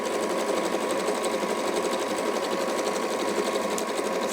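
Sewing machine running a lock stitch at stitch length 3, a steady, close, high-speed whir with dense rapid needle ticking throughout, no pauses and no talking.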